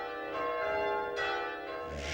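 Anglican tower bells in Quebec, rung in a special style, sound in a steady, sustained wash of overlapping tones, moderately loud and uninterrupted by voices.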